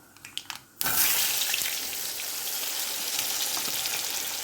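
Raw plantain and chana dal fry in oil in a pan, a steady loud sizzle that bursts in after a brief softer stirring start and holds evenly throughout with no talk.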